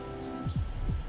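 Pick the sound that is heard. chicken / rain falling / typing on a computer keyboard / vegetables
rain falling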